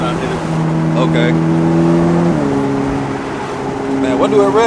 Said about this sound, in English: Let the engine get warmed up, then I hit it.